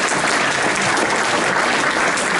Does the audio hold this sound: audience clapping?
yes